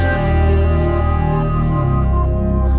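Sung vocal run through The Mouth from Native Instruments for a hard, robotic AutoTune pitch-correction effect, sustained and loud with stepped, buzzy harmonic tones and some echo tails.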